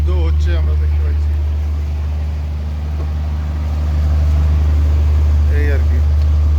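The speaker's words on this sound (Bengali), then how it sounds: "জাহাজের ইঞ্জিনের একটা শব্দ হচ্ছে" A ferry's engine drones on a sea crossing to Malé in the Maldives, a loud steady low hum throughout with people talking over it.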